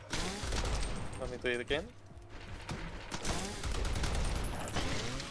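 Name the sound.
gunfire and grenade shots in a video game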